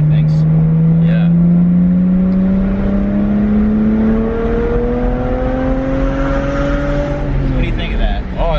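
A BMW 1M engine revs loud and close while driving, its tone climbing steadily as it pulls through the gear before easing off near the end.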